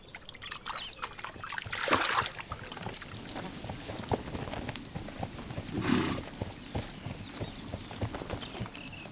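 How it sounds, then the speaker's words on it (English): Giara horses grazing in shallow water on a Sardinian plateau, with soft splashing and sloshing steps at a moderate distance, a couple of louder splashes standing out over a quiet outdoor background. "The horses from the plateau feed to a large extent on plants, which they graze on under the water."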